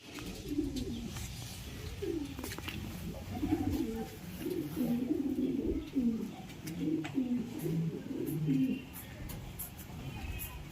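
Soft, repeated cooing from racing pigeons runs steadily throughout, close and moderately loud over faint background noise, with no talk.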